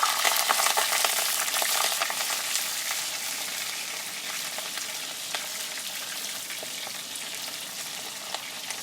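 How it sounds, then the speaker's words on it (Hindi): Chopped onions frying lightly in hot ghee for chicken keema karahi, giving a dense, steady crackling sizzle with occasional stirring scrapes, close and even throughout, no voices. "यहाँ पर प्याज की हम थोड़ी सी लाइटली बुनाई करेंगे।"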